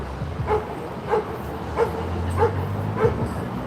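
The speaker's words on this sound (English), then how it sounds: "that dog's interested in the other dog barking" A dog barks in a regular rhythm at an outdoor street protest, five or six short yips about every half second, a little distant, with a low hum underneath.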